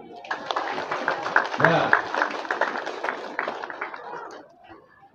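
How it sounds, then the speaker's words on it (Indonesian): An audience at a bishop's welcome ceremony in Nabire, Papua, breaks into applause, a dense patter of clapping mixed with crowd voices that rises quickly, holds for several seconds and then fades. "Tepuk tangan."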